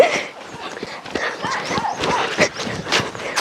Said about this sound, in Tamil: நாய் துரத்துது